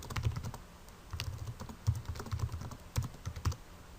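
A computer keyboard clatters under quick, irregular typing as a comment is entered, close and light, with brief pauses between small bursts of keystrokes.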